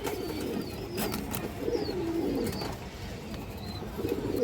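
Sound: pigeons cooing

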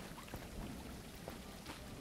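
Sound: rain in the video game Elder Legacy

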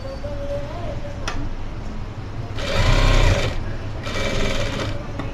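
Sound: sewing machine stitching dress collar

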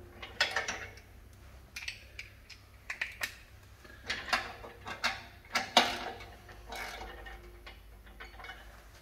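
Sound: ratchet with 3/4 inch socket tightening mounting hardware

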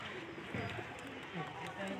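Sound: pigeons cooing

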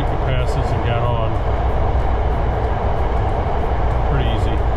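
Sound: train ride

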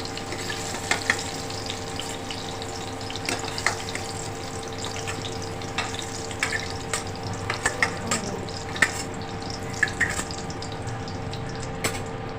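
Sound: chicken skin frying in oil

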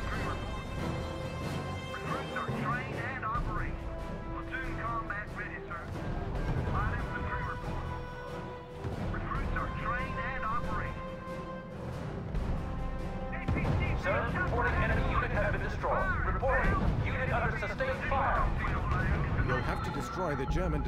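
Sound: artillery and gunfire from video game R.U.S.E battle

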